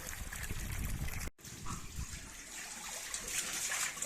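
Water trickles and dribbles out of a pipe, a faint close splashing with a short break after the first second before the trickle resumes.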